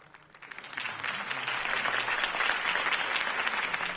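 A video game crowd breaks into applause that swells quickly and holds steady, a dense wash of clapping with faint cheering underneath.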